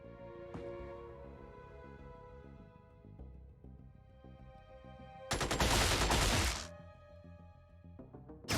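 Gunfire in the Xenonauts game: a sharp shot near the start, scattered reports, then a loud dense burst of rapid automatic fire lasting about a second and a half before fading to quieter tones.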